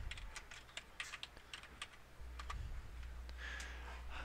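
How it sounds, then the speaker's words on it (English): Typing on a computer keyboard while searching the web in Chrome, with a quick run of light, close key clicks for about two seconds. A low hum continues underneath, and the keystrokes then fade to a few scattered taps. "I've typed that in"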